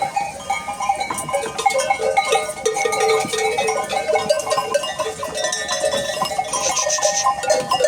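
Sheep or lambs bleat repeatedly close by amid clanking, rustling barn noises, with a bell clinking now and then.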